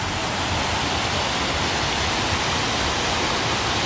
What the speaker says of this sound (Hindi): दोबारा आपको दिखाते हैं एक और बहुत ही शानदार वाटरफॉल।